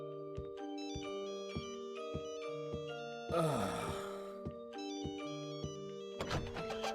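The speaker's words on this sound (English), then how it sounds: "it's actually a pretty sweet melody for a haunting death hotel" A sweet but eerie melody from a haunting hotel in a video game, played in plucked, bell-like tones with a steady rhythm, interrupted midway by a burst of noise before resuming; one person briefly groans.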